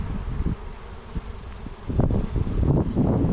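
Honeybees inside a shipped package hum and buzz in a low, close drone that swells louder in the second half, with faint rustling and no voices.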